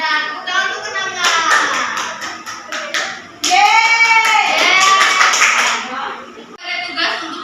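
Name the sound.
classroom children clapping hands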